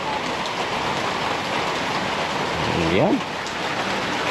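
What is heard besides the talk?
rain falling on a house construction site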